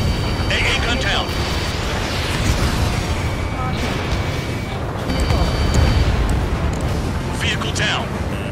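Destroyed vehicle exploding in the combat flight game Ace Combat 7, a dense rumbling roar of blasts and engine noise that fills the whole stretch, loud and continuous, with radio chatter mixed in.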